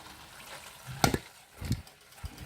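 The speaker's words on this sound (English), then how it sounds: "Next, I'm adding my rice, my washed rice." Washed rice tipped into a sizzling pan for Spanish paella, a soft gritty pour followed by a couple of quieter scrapes against a low frying hiss.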